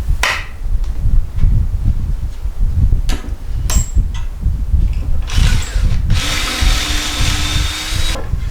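A power drill drives pocket screws into 1x4 boards while a rectangular wooden box is assembled, with loud bursts of whirring and clattering workshop handling noise between them, close up and with no talking.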